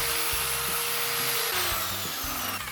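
Power sander with 240-grit paper stripping tough paint from a TVR Rover V8 rocker cover. It gives a steady, close, continuous whine and grind with a few small shifts in pitch, and no voices.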